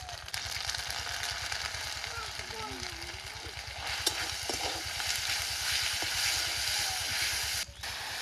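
Ginger paste hits hot oil with onions already fried light reddish, giving a steady close sizzle and crackle throughout, with occasional stirring scrapes and a brief voice underneath.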